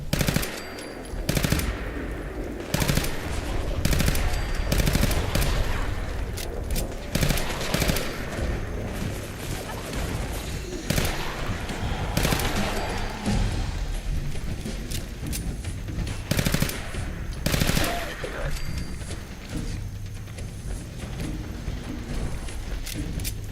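Rapid automatic gunfire from a modded gun in Fallout 4, played on Xbox in a modded survival game, with repeated loud bursts and sustained volleys rattling through most of the stretch, close and dense with short gaps.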